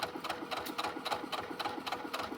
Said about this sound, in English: We're going to sew over those gathers that we've put in.